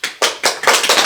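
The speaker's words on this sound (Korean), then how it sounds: "박수" Audience applause during a Buddhist lecture on meat-eating, a short burst of distinct hand claps, about five sharp, close, loud claps in a quick uneven rhythm.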